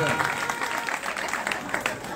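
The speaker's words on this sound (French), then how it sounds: "On va applaudir pour les accessoiristes et les écrivains." Audience applause at a book-promotion festival in Samatiguila, a dense, steady wash of clapping for the props staff and writers that runs throughout without a break.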